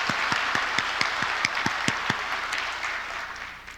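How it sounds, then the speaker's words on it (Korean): Congregation applauding during a Christmas Sunday worship service in a church: steady, dense clapping that starts at full strength, holds for several seconds and then fades out. "감사의 박수 올려드리겠습니다."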